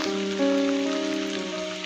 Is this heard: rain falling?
yes